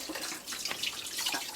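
Running tap water splashes steadily while beef cow heel is rinsed in a sink for Guyanese pepperpot, a continuous close hiss with no talking.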